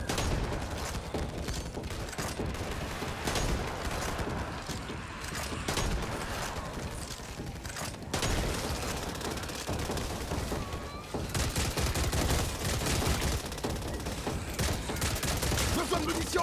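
Dense, continuous gunfire from the zombie shooter Back 4 Blood, with bursts and automatic fire rolling on for the whole stretch, layered with combat noise and brief voice callouts.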